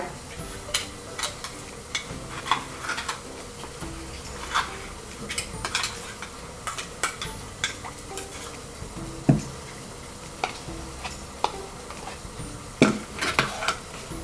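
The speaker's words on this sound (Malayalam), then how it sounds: "മസാല ഇതിനകത്ത് മിക്സ് ചെയ്തിട്ട് അതേ മസാല അങ്ങനെ തന്നെ ചേർക്കാൻ പോവാണ്." Masala being stirred into a Kuttanadan egg curry in a pan, with soft sizzling under a steady series of light spoon clinks and scrapes against the metal, no talking.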